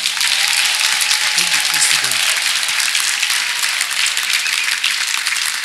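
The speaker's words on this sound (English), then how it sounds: "is it because of cold that you are not making this clapping beautiful?" A church congregation claps loudly and continuously during a testimony service, dense even clapping with a brief voice faintly heard beneath it.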